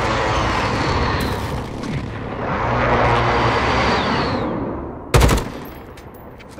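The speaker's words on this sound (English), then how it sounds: "Enemy precision airstrike," Precision airstrike explosions in Call of Duty Modern Warfare (2019), a hardcore team deathmatch on the Rammaza map: a continuous loud rumble of blasts and gunfire, then a sharp close detonation near the end with a fading tail.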